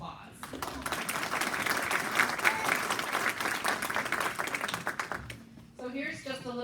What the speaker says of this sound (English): I would like for all of you to give yourselves a round of applause